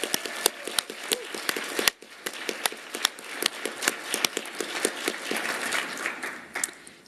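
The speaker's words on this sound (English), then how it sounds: "A huge round of applause." Applause from a commencement ceremony audience, a steady sustained clapping with distinct sharp claps standing out, moderately loud with no talk over it.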